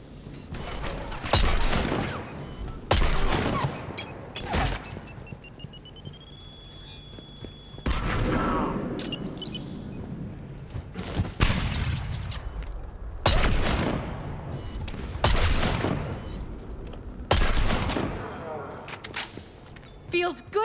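Rapid bursts of gunfire crackle through a firefight in Mass Effect 3, sharp volleys repeating in clusters with booms and mechanical clatter between, while voices speak over the combat.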